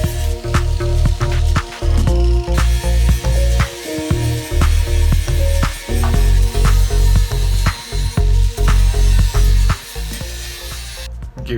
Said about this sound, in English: So I'll just grind it back